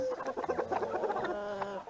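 Rescued roosters clucking close by at feeding time, a quick busy run of overlapping clucks and calls from several birds.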